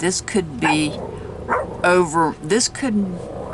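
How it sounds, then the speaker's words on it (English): A dog barks and yips in short bursts close by, interleaved with a person talking over it. "excuse my dog"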